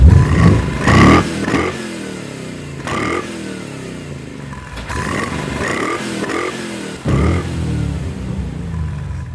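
A Corvette C4 engine revs up in several throaty bursts, rising and falling in pitch between short idles, close by and loud.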